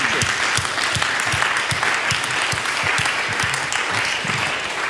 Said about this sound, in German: Ralf, gib mir doch mal einen Applaus